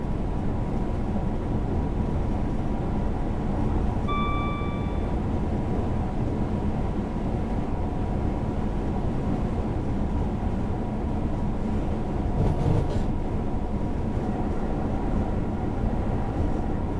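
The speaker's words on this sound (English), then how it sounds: "you're joining us on a Meridian going to London" A Meridian passenger train bound for London in Train Simulator, its steady low rumble and rolling rail noise continuing throughout, with a brief tonal whistle-like chime near the start and a short burst of clatter later.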